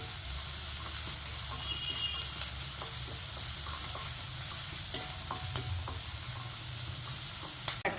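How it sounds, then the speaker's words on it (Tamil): Chopped tomatoes sauté in a pan for a tomato chutney, a soft continuous sizzle with scraping stir strokes, close and fairly quiet. "தக்காளி வதக்கியாச்சு"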